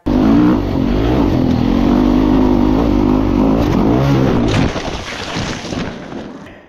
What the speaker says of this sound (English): I will quickly show you here the big crash I had.